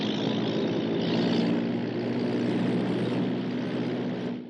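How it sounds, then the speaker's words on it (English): A propeller-driven pickup plane comes in to land, its engine droning steadily and close throughout before easing off at the very end, with no voices over it. "Holmes, he's coming in for a landing."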